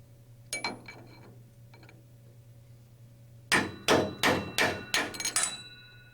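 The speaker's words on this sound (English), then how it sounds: "Knock the lock ring loose with a hammer and punch." Hammer driving a punch against a helicopter main thrust bearing lock ring on a Rotorway main shaft, a quick run of about seven sharp metallic strikes in close rhythm, preceded by a couple of lighter taps over a steady hum.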